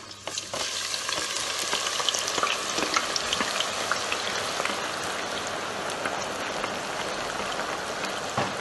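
Onions dropped into hot oil for a tomato beef stew, a sudden loud burst of sizzling that settles into a dense, steady crackling fry, close and without talk.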